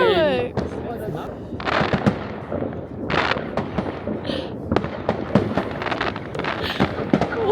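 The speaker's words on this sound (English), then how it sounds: "Everyone just has their own fireworks." Fireworks and firecrackers crack and boom over and over at New Year's in Germany, a dense, loud barrage of pops and bangs with some whistling rockets, set off by many people at once.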